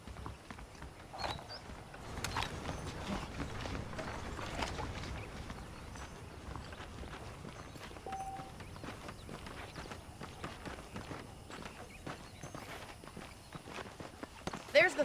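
Saddled horses' hooves clip-clopping in the Red Dead Redemption video game, a soft uneven run of hoof and footstep hits under game sounds, with a voice talking over part of it.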